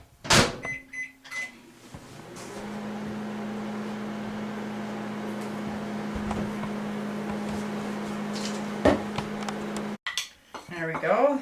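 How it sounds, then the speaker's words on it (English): A clatter of dishes, then a microwave hums steadily for several seconds softening peanut butter, ending with a click and more kitchen clinks and rustling. "I'm just going to microwave that for about 25 seconds"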